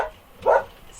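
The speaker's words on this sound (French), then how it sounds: "Excusez-moi pour mes chiens." A single short dog bark sounds once from indoors at moderate distance, brief and muffled.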